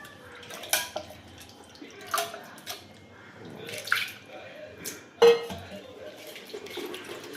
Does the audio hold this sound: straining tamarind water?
yes